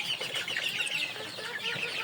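Desi and Egyptian chickens on a poultry farm cluck and murmur in short overlapping calls, a busy flock heard close and fairly soft, no talking.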